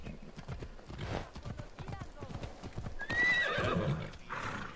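Horse hooves clip-clop over rough mountain terrain in Assassin's Creed Odyssey, a steady near trotting beat with a brief neigh partway through, heard alongside game sounds and someone talking.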